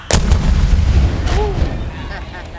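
A cannon fires once during a live historical demonstration at Fort Jackson, a single loud, close blast with a sharp onset that rolls into a long, dense rumbling decay.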